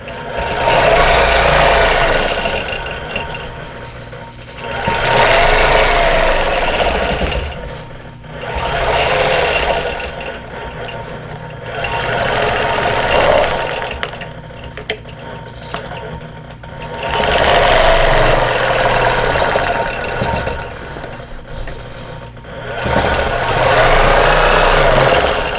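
A sewing machine quilts outline stitching on a pillow cover made from vintage quilt blocks. Loud, close bursts of rapid mechanical chatter alternate with short quiet pauses in an even, repeating rhythm.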